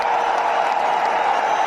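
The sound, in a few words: loud applause at RCM anniversary event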